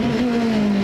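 An IndyCar race car accelerating hard during the 1993 Long Beach Grand Prix, a loud, sustained high-pitched engine whine that rises steadily in pitch, close and filling the whole moment.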